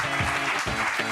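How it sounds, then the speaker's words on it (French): At a school equality awards ceremony at Lycée Descartes, an audience applauds steadily in a short, full-bodied burst of many hands clapping. "Vous pouvez l'applaudir."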